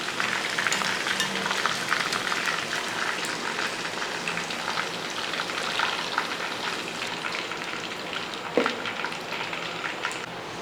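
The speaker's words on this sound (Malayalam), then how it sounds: "അപ്പോൾ നമുക്ക് രണ്ടാമത്തെയും കൂടെ ഇട്ടതിന് ശേഷം ഒന്ന് ഇളക്കി നേരത്തെ പോലെ തന്നെ ഒന്ന് ഫ്രൈ ആക്കി എടുക്കും" Chicken pieces deep-frying in oil in a pan, a steady dense sizzle and crackle with scattered pops throughout, close and continuous with no talk.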